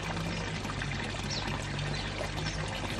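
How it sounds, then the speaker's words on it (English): Water pours steadily out of a fish bowl in a continuous close splashing stream, with no talk over it. "Need to get the water out."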